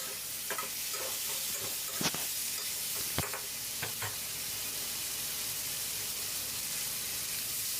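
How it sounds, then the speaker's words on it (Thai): Pork with bell peppers and onion stir-frying in a pan: a steady loud sizzle and hiss broken by sharp spatula scrapes and clacks against the pan in the first few seconds. "พริกหยวกแล้วก็หอมหัวใหญ่ของเราใส่ลงไปได้เลยนะครับ เดี๋ยวเราก็จะผัดใส่สักเล็กน้อยนะครับ"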